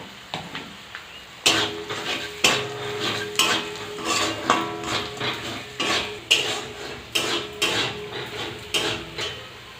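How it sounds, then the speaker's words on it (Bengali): A spoon scrapes and stirs a turmeric spice masala frying in a pan for an arum-lobe (kochur loti) dish, making steady, rhythmic, close strokes roughly every half second over a soft sizzle. "মশলাটা কষানো হয়ে গিয়েছে"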